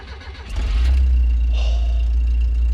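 A 46-year-old car's engine catches and settles into a steady, loud idle, a deep continuous rumble close by with a brief rising rev at the start and no talking.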